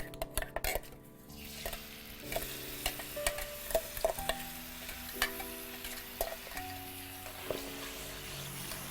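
Mustard sauce with oil frying in a pan, with saffron to be added, sizzles softly while a utensil stirs and clinks against the pan in a steady, irregular rhythm close by, with no talking.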